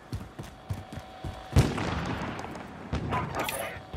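Gunfire in the Call of Duty: Modern Warfare video game, with a sharp shot followed by a burst of rapid fire, mixed with game noise and faint background sound.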